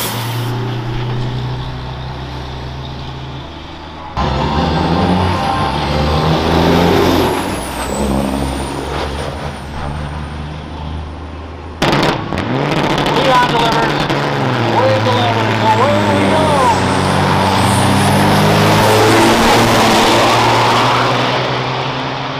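A heavy diesel semi truck, running bobtail in an uphill drag race, roars loudly, its engine pitch rising and shifting as it strains and accelerates, with crowd noise and a whistling tone in the background.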